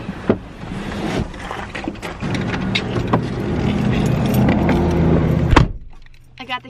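Car keys jangling and clinking as they are handled, a metallic rattle over a steady rumbling background, ending with a sharp clatter and then a quieter final jingle.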